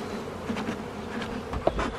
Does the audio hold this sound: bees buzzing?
yes